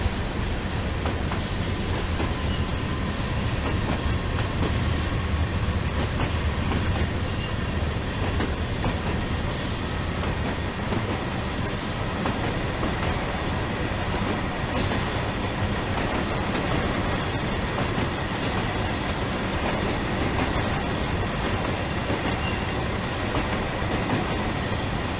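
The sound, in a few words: Class 66 diesel locomotive accelerating on rails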